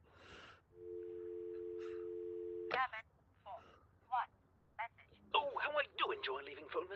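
In the I Expect You to Die VR game, a steady telephone tone runs for about two seconds, followed by a short voice burst and scattered clicks, then processed phone-line voices talking toward the end.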